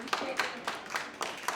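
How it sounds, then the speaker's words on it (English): An audience claps in a steady rhythm, faint and somewhat distant, with evenly spaced bursts roughly four times a second at a community roast event. "No, we're going to clap louder than that."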